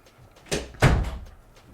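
A door opened by a young child: two quick knocks or clunks about a third of a second apart, the second louder, against a quiet indoor room.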